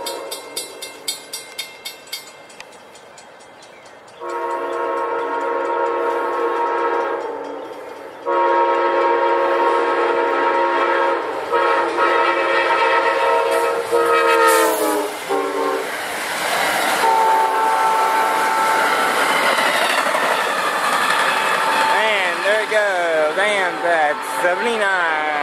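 A CSX or Amtrak train passes close by with a loud, sustained horn blaring in long blasts, wheels rumbling and clattering, while rain patters.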